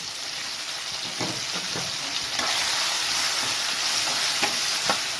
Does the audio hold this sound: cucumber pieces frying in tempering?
yes